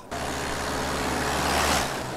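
Cars passing one after another on a road, a continuous whooshing roar that swells toward the end as a vehicle goes by close, with no talking.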